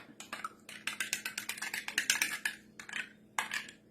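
A spoon clinks and scrapes rapidly against the inside of an Instant Pot while yogurt is stirred with stevia, a close, busy run of metallic taps that pauses briefly and then resumes, with no talking.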